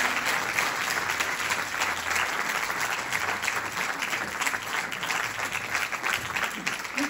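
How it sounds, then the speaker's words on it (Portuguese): Sustained audience applause fills the hall after a singer's set at a fado festival in Mação, steady dense clapping throughout with no break. "Está então na altura de pedir o vosso aplauso"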